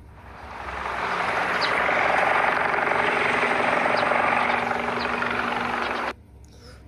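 A helicopter's steady whooshing rotor drone builds, holds loud and close for several seconds, then cuts off abruptly.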